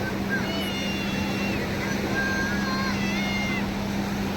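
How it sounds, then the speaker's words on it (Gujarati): Boats crowding the sea off a beach, with a steady low motor drone running throughout beneath a busy outdoor wash of crowd noise and faint high tonal whistles. "તો કેટલી બધી બોટું છે"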